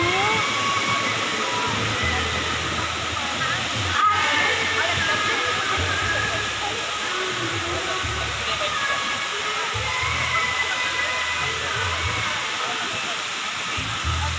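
Casilak Falls in Corella, Davao del Norte, pours with a constant, loud, broadband rush of water that stays even and unbroken throughout.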